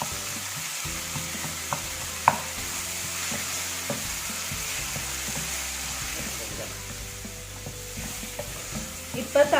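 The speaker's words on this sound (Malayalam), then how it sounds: "ഈ സമയത്ത് നമുക്ക് തക്കാളിയും ഇതേപോലെ തന്നെ കൊത്തി അരിഞ്ഞതാണ്, അതും ഇതിലേക്ക് ഇട്ട് കൊടുക്കാം" Chopped tomato frying with onions and masala in a pan, a low steady sizzle with occasional stirring scrapes and small clinks, close by and continuous without talk.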